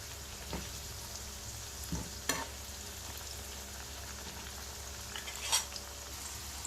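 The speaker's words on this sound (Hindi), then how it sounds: "इन्हें लो फ्लेम पर इस तरह से फ्राई होने देंगे, ताकि ये अंदर से अच्छे से कुक हो जाए।" Pieces of taro (arbi) fry gently in oil on a low flame, a soft steady sizzle broken by a few brief scrapes and clinks as they are turned in the pan.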